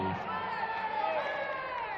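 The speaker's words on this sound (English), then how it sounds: "huge ovation from 1 or 2 of the crowd there" Crowd at a 2017 Gibraltar Darts Trophy first-round match gives a brief cheer and applause, a steady broad wash of voices lasting a couple of seconds.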